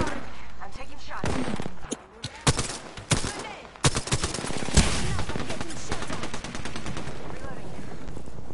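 Rapid gunfire from a first-person shooter video game, loud dense bursts of automatic shots with sharp single cracks, continuing for several seconds with a brief lull in the middle.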